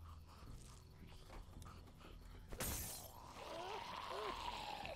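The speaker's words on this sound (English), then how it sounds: "Glass breaking isn't that loud." Car window glass shattering in The Walking Dead: Season One, a single sharp crash bursting out midway after quieter rustling, followed by lingering debris and ambient sounds.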